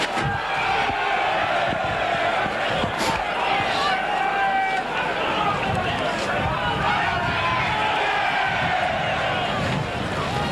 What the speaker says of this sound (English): And the Widnes fans trying to warm themselves up, cheering every tackle.